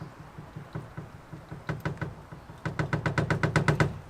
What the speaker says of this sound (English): I've just started noticing a little tiny knock